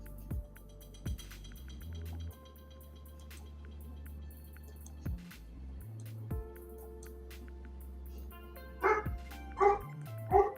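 A dog barking in a kitchen, with scattered single barks early on and then a quick run of three louder barks near the end, heard at moderate distance over a low hum.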